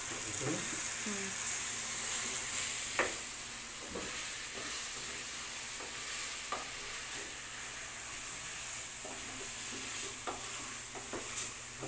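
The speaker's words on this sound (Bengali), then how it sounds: "আলু দিচ্ছি, লাড়া দাও।" Potatoes frying in a pan give off a constant hissing sizzle, with intermittent clicks and scrapes as they are stirred, close and fairly loud throughout.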